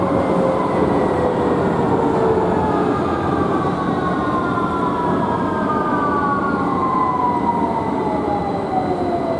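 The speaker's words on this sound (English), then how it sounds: "Victoria Line train to Brixton." A London Underground Victoria Line 2009 Stock train runs between Walthamstow Central and Tottenham Hale, its traction motors whining in smooth, sliding tones over a steady, loud tunnel roar, with no talk.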